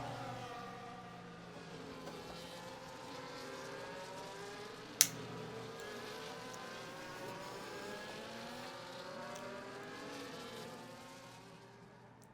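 Race cars in a racing video game at the Las Vegas Grand Prix circuit run behind the safety car, engines droning with rising and falling pitch sweeps and a sharp click partway through.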